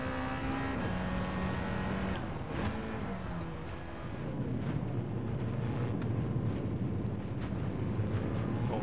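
Honda Integra Type R DC2 engine in Gran Turismo 7 on the Nordschleife, revving up through rising tones, dropping after a shift, then settling into a loud, steady drone from the hood camera.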